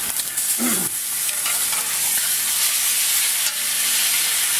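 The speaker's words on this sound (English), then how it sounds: "It seared that in at that high temperature." Steak sears in a very hot cast iron pan with a loud, continuous close sizzle and hiss, punctuated by a few brief scrapes and bumps.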